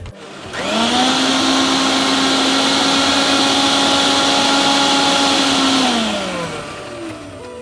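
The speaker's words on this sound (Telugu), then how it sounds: "దీన్ని మిక్సీ పట్టేసుకోవాలి" A mixer grinder whirs loudly while blending coriander vada batter with besan, salt and a little water, spinning up sharply, holding a steady high whine for about five seconds, then winding down.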